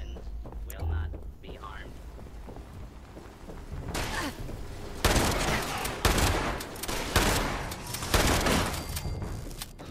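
In Fallout 76, a shotgun fires at robots: irregular bursts of loud gunfire and impacts in the second half, following quieter in-game clatter, with game action filling the background.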